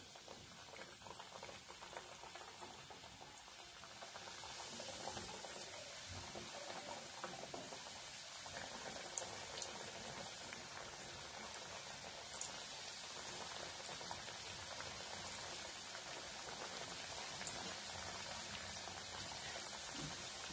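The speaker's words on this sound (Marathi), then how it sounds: "चांगलं कडक झाले की मग आपण याच्यामध्ये हे पेटी तळून घेऊया" Khari petha pieces sizzle and bubble in hot oil, a steady dense crackling fry that holds at an even loudness throughout with no talking.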